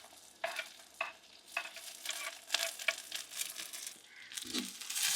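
Onion and green chili sauté in oil, making a crackling sizzle with repeated spatula scrapes and taps in an uneven rhythm, close by and without speech.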